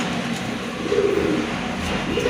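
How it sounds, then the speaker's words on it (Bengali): A pair of pigeons coo softly and continuously at close range over a steady background hum, with low throaty pulses. "খুবই সুন্দর ফুল এক জোড়া কবুতর"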